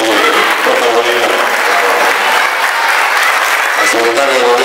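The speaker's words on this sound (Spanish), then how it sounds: "Felicitaciones para todos, un fuerte aplauso." A crowd at an evening housing handover ceremony claps loudly and continuously in close, thick applause, with voices mixed in underneath.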